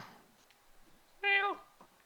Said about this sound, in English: And a cat got off the PlayStation.